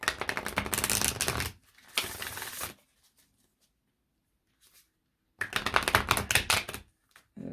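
Tarot cards riffled and shuffled in quick bursts, two dense rustling flurries separated by a quiet pause, close and fairly loud with no talking.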